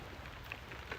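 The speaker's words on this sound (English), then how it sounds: "The rain hit pretty hard, but it will stop probably in a few minutes because it's just a small cloud." Rain falling on an outdoor Trex deck build site, a soft, steady hiss of drops pattering on surfaces, faint and continuous with a few slightly louder spatters, no talking.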